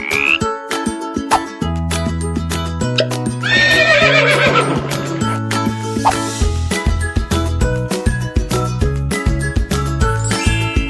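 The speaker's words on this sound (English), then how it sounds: "Horse." A horse neighs as part of a children's animal-sounds learning segment, a whinnying call laid over a steady, loud musical backing with jingling tones and no talking.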